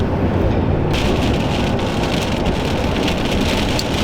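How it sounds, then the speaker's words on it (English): Heavy rain falls steadily during an autumn deer hunt in Michigan, a loud dense hiss of drops that grows brighter after the first second, with no talk. "That's rain. It seems excessive."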